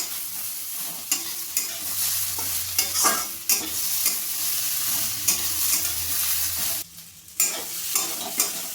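An egg dish with soy sauce and dried fenugreek leaves is mixed in a hot pan, steady sizzling under close scraping and clinking strokes that continue throughout, broken by a short quieter gap near the end.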